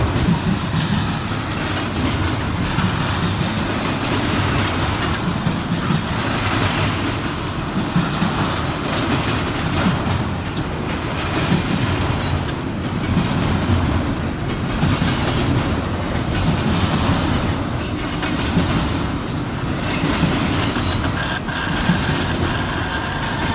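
An intermodal freight train rolls past nearby with a Norfolk Southern DPU locomotive on the rear, its steady loud rumble of railcars broken by faint rhythmic wheel clacks, continuous and unbroken throughout with no voices.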